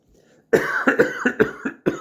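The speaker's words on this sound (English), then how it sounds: "Sorry, I coughed. I didn't want to record that." A short series of hoarse coughs, about five bursts in quick succession, close and fairly loud, following a brief quiet moment.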